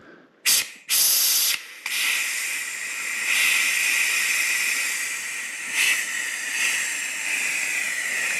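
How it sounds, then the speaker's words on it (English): Old brake fluid is siphoned from the bottom of the reservoir of a 2015 Mini Cooper D, giving a steady close hiss with a couple of sharp louder bursts early on and no talking. "quite simply just siphon the bottom of the tank"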